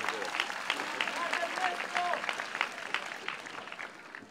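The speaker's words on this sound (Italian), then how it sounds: "Applauso Ernesto, ragazzi." Outdoor audience at an open-air film screening in a park clapping steadily throughout, a dense spread of hands with voices mixed in beneath the applause.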